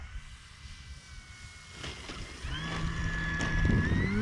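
An E-flite Carbon-Z electric RC airplane passes overhead outdoors. Wind buffets the microphone at first, then a thin, rising motor whine grows louder toward the end.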